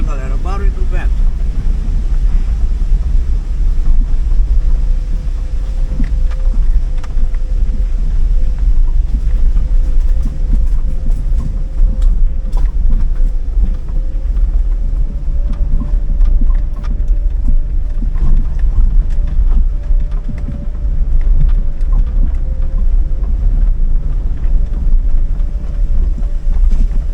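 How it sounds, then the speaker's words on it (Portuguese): Strong storm wind gusts roar steadily through a forest reserve in Cubatão, São Paulo, a loud, continuous rumble buffeting the microphone throughout, with someone talking over it at times. "O barulho, galera, o barulho do vento."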